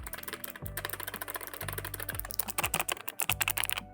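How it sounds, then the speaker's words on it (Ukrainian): Rapid clicking keystrokes on a computer keyboard, fast and continuous, close to the microphone with no voices. "в мене є ось така от клавіатура, дуже зручна клавіатура"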